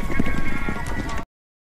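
Horses gallop in a rapid rhythmic drumming of hooves while mounted soldiers play a ball game. The pounding is loud and close for about a second, then stops abruptly.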